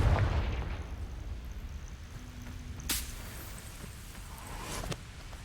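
Confringo spell explosion in Hogwarts Legacy: a deep boom opens loud, trails off into a rumbling tail, and a couple of sharper crackling bursts follow near the third and fifth seconds.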